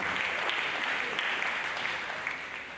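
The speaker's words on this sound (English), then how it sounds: "Please a round of applause for him." A conference audience gives a sustained round of applause for a speaker at an annual meeting of Nigerian educational researchers and evaluators, loud and steady throughout before easing slightly at the end.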